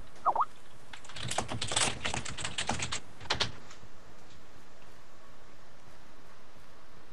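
Rapid computer-keyboard typing comes in a dense burst of clicks over the first few seconds, then thins to a few scattered keystrokes before trailing into quiet room noise, with no voices.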